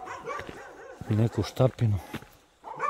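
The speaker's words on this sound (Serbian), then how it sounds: "Sad, zavisi koji je pas na vezu, koji nije." Dogs near village houses bark at night, a few short yips and barks at middle distance, mixed in with someone speaking close by.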